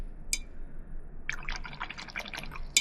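A paintbrush swished in a watercolor rinse well, a small early tap and then a cluster of soft wet splashes and drips, close and gentle over low background noise.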